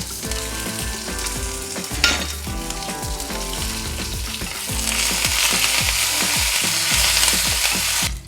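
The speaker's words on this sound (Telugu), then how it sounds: "ఎండుమిరపకాయ ముక్కలు, జీలకర్ర వేసి ఫస్ట్ ఈ పోపు వేగే వరకు వేయించుకోవాలండి" Dried red chilli pieces and cumin seeds sizzle and fry in hot oil for a tempering, a dense steady crackle with scattered pops and occasional stirring, growing louder near the end, no voices.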